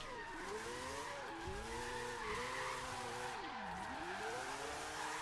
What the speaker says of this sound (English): Alex just did a skid. I seen it. I seen it. He did it with the Corvette.